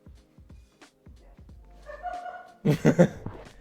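A dog whimpers and yips indoors in a series of short, high cries, followed by a louder burst of sharp yips near the end.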